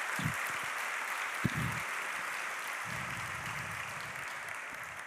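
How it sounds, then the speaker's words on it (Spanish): Sustained applause from a large church congregation, steady clapping filling the room for several seconds with a few louder claps near the start. "Démosle un aplauso a Dios,"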